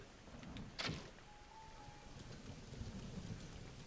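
A lightning strike and thunder crack in Zelda: Breath of the Wild, a sharp loud burst early on followed by a steady rumble with rain over a low, continuous storm bed.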